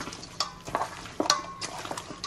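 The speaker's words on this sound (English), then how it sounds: "I like to season my meat and my flour when I'm frying chicken." Chicken frying in seasoned flour: a soft sizzle runs underneath while utensils scrape and clink against the pan in scattered bursts, close and quiet.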